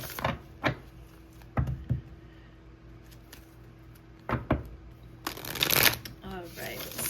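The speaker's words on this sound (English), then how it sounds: "Just going to go ahead and shuffle these cards a bit." Tarot cards are shuffled in several quick riffling bursts, close and fairly quiet, with pauses between them and a longer, louder shuffle near the end.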